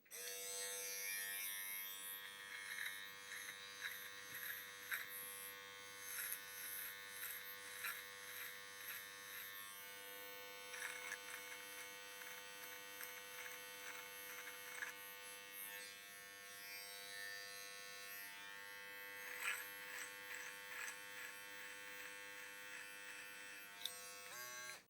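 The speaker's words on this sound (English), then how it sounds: "Okay, this is the precision trimmer." A cordless USB-rechargeable precision hair trimmer running on its low setting with the guide removed, a steady, close electric buzz that wavers slightly as it moves, with no talking.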